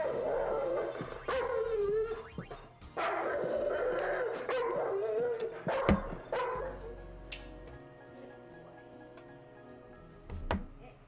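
A dog barks, yips and whimpers anxiously while being groomed, with repeated short outbursts over steady background noise and a brief sharp sound near the end.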